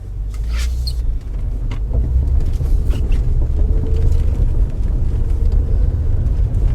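A car rolls along on a test drive after an engine mount replacement, a steady low road rumble and cabin drone from inside with faint ticks and rattles, no voices.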